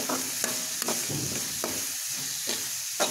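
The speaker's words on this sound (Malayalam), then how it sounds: "പൊടികളൊന്ന് മൂക്കട്ടെ." Chili powder, black pepper powder and garam masala fry in oil in a pan, giving a steady soft sizzle broken by several scraping stirs of a spoon at close range.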